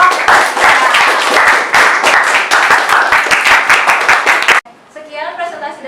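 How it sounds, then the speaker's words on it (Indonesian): A classroom audience claps for a presenting group, dense sustained applause for over four seconds that stops abruptly, after which a voice is heard speaking. "tepuk tangannya untuk kelompok."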